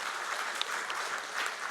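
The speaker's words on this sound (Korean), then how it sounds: "위로의 박수 하시겠습니다" A church congregation at a Sunday service claps in encouragement and comfort, a brief, even, moderately distant patter of many hands with no talking.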